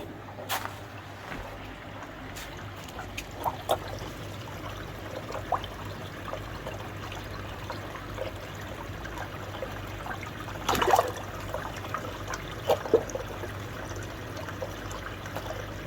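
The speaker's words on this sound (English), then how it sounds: "There's the return, look. See with the water, the muck gets to it and it blows out." Return water flows into an indoor koi pond, giving a soft, continuous trickle and splash under a low steady hum, with scattered small drips and splashes and a brief louder gush near the end.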